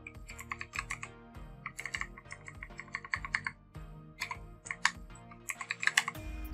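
Quick, light keystrokes on a computer keyboard as a command is typed, clicking in irregular bursts with brief pauses, close and fairly quiet, no talking.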